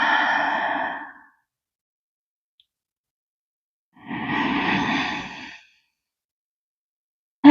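Two long yoga breaths, an airy breathy rush near the start and another after a pause of about three seconds, close and fairly loud, without speech.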